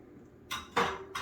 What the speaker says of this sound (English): I'm going to grab my pan